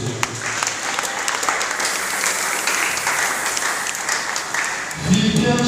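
A church congregation breaks into sustained applause, a dense wash of clapping that holds steady for several seconds before a low voice and music rise at the end.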